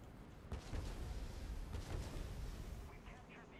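Gunfire from an afterburning VTOL jet in a video game crackles in dense, rapid bursts with heavy low rumble, continuing throughout without a clear pause.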